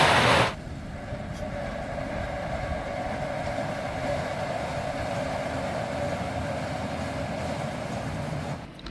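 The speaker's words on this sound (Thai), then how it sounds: "ตอนนี้ รถไฟสถานี กาเฟนายบ้าน ได้ออกเดินทางแล้วนะครับผม" A steady low rumble of a train pulling away, constant and fairly loud, with no voices over it.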